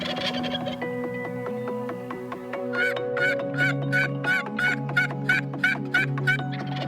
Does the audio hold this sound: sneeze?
no